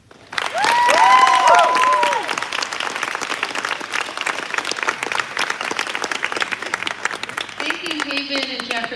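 A graduation ceremony audience for the class of 2023 bursts into loud, dense applause with cheers and shouts, peaking early and then holding a steady clapping roar to the end.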